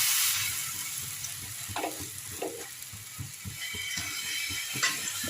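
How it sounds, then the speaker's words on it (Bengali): Semolina and spinach batter sizzles in a frying pan with a little white oil, a steady crackling hiss broken by a few scraping, clicking knocks of a utensil against the pan. "এরপরে আমি ফ্রাই প্যানে একটু সাদা তেল দিয়েছি, দিয়ে এই ব্যাটারটা দিয়ে"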